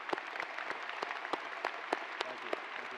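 A graduation ceremony audience applauds supporters with steady, moderately distant clapping, sharp claps standing out from a dense crowd wash throughout.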